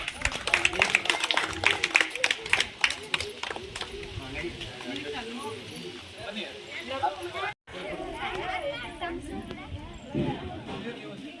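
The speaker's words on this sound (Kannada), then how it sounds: "ಜೋರಾದ ಚಪ್ಪಾಳೆ ಚಪ್ಪಾಳೆ ತಟ್ರಿ" Students, teachers and parents at a government school event for handing out books and pens clap in a burst of dense applause that fades into crowd chatter and voices.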